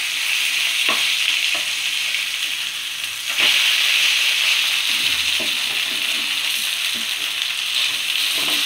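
Mackerel (bangda) fries Karwar-style in hot oil in a pan with a steady, loud sizzle throughout, while occasional knocks and scrapes mark the fish being turned over.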